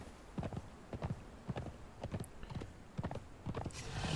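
Horse hooves clopping in a steady trotting rhythm while a mount is ridden in Conan Exiles, even, fairly close footfalls with a faint creak, no talking.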